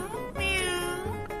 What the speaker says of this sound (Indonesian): Ih, aya kucing oren.